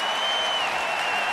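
A baseball stadium crowd roars and applauds after a home run in a Braves at Nationals game in Washington, making a dense, loud, sustained wall of cheering with a faint whistle-like tone running through it.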